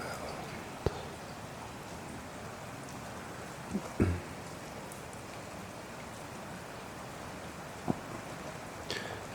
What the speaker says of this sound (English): where you hear more wind noise than you do rain dropping sounds